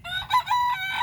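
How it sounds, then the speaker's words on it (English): A rooster in a coop with chickens crows once, near and loud, a harmonic drawn-out call lasting about a second. "we got 2 roosters in here with these chickens"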